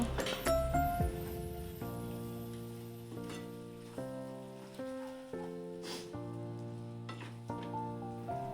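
Asafoetida and garam masala stirred in a hot pan for idli masala give a steady, close sizzle with light scraping, mostly under continuous melodic background music.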